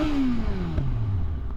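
Yamaha R6 sport bike exhaust with a dB killer fitted, an engine tone sliding steadily downward as the revs fall off, loud and close with no talking.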